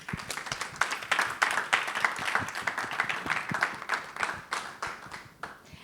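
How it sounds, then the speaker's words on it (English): Steady round of applause from a roomful of people at a Toastmasters club installation ceremony for club officers in Singapore, dense overlapping claps throughout with no speech. "I request everyone in this room to give a round of applause for a job well done."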